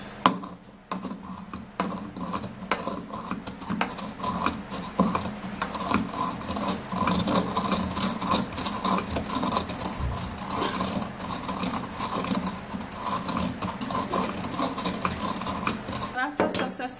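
Vitamin C tablets being crushed for a homemade lip treatment, a steady run of close grinding, scraping and clinking as a utensil presses them against a hard dish, continuous with no talking.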